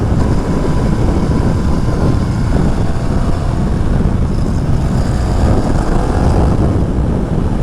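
A 2021 KTM 1290 Super Duke R motorcycle riding on the road, its engine a steady loud drone mixed with heavy wind rush throughout, with no talk.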